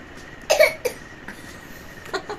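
A man coughs in a short burst of about two to three harsh coughs near the start, then fainter throat sounds and a final small cough, close to the microphone in a quiet home.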